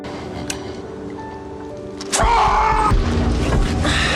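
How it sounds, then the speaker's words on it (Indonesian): A bomb set off by a remote trigger goes off as a sudden deep boom after a quiet stretch of faint clicks, with a heavy low rumble trailing behind. "Philip pun segera menekan tombol pemicu bom untuk mengakhiri semua ini"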